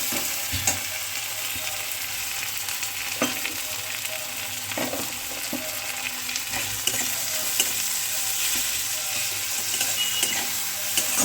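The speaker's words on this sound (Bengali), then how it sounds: "এটাকে আস্তে আস্তে করে নাড়তে হবে যতক্ষণ না পেঁয়াজটা ভাজা হচ্ছে" Onions sizzle steadily in hot oil left from frying tilapia while a spoon scrapes and knocks against the pan at an unhurried, irregular pace.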